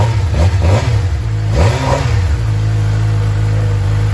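A BMW Alpina B6 engine catches and revs, two sharp throttle blips rising and falling before settling into a loud, steady idle, close by with no talking.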